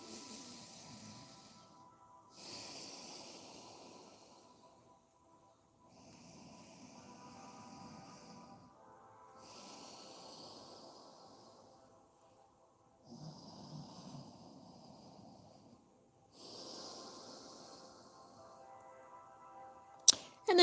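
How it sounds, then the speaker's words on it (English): Slow nasal breathing during a yoga session, several long drawn-out breaths in a regular rhythm of rising and falling airy hiss, close and fairly soft, with no talking. "breathing through your nose."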